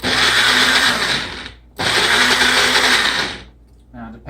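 A bullet blender whirs loudly, blending a roasted red bell pepper sauce, in two strong bursts with a brief stop between, then cuts off into quiet.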